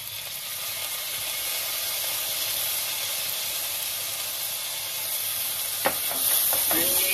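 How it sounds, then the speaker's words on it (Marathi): Rice stir-fried with whole spices in a pan, a constant hissing sizzle throughout, then a few scraping stirs and clinks near the end, close and without speech. "आणि 1-2 मिनिटात थोडं परतवून घेऊया तांदूळ"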